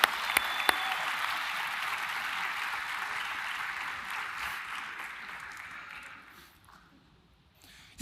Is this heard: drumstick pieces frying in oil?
no